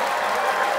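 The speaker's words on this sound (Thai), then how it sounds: "ขอเสียงปรบมือดังๆให้อาจารย์ด้วยค่ะ" Dense, steady applause fills a hall as an audience claps for a lecturer at a Thai public talk on the August 7 referendum, an unbroken, close wash of many hands with no voices over it.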